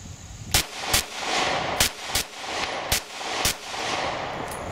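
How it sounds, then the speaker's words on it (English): Glock 43 pistol in rapid fire at a shooting range, about eight sharp, loud shots in quick irregular succession over an outdoor background hum. "This last rapid fire is going to be center mass, so we'll see."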